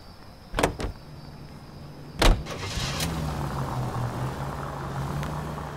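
A car in L.A. Noire: door thuds and mechanical clunks, then a low steady engine hum starts and keeps running under faint background noise.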